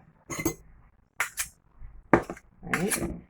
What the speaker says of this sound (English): I will take a spoon and I will gently mix them up